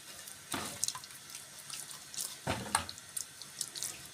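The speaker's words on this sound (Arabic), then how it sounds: "غسلت السمك ونضفته كده" Tap water running and splashing while tilapia fish are washed in a kitchen sink, with intermittent bursts of flow and drips, quiet and close, no voices.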